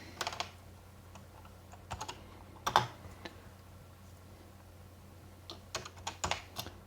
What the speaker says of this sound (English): I'm going to exactly type